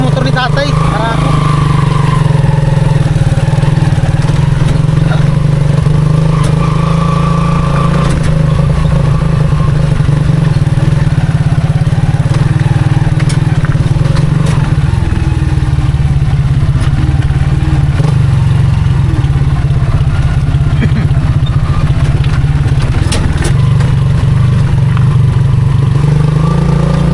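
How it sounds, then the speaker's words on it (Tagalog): A father's sturdy motorcycle runs steadily on a wet, rainy road toward a view deck in Dingalan, Aurora, its engine droning loud and close with a low hum and some clatter throughout. "Matibay ang motor ni tatay."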